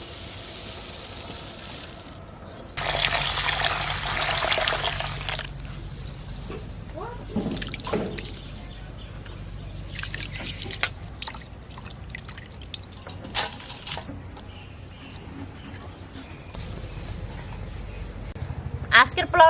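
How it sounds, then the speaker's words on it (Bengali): Chinigura rice is washed and left to drain. Bursts of running, splashing water alternate with quieter stretches of drips and handling noises, and a voice is faintly heard at moments. "এখন ধুয়ে জল ঝরতে রেখে দেবো।"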